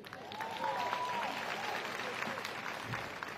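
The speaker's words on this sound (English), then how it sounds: "Give yourselves a round of applause." Audience applause at South Carolina State University, a dense steady wash of clapping that holds for the whole span, with a faint voice or tone carrying over it.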